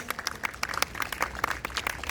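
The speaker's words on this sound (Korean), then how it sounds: "박수로 맞이해 주시기 바랍니다." Applause from a small group of guests greets arrivals at an outdoor labor union press conference, a steady patter of scattered hand claps at moderate distance, alone without talk.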